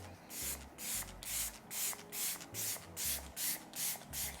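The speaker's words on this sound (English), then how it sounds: "I'm gonna just spray this all over." Milk Makeup Pore Eclipse setting spray hisses out in about nine quick, even bursts, each a short close mist of spray with brief pauses between.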